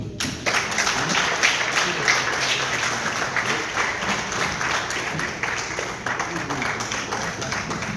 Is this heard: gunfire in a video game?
no